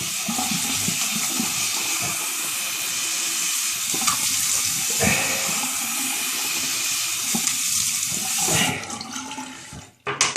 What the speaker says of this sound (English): I'm going to splash with cold water.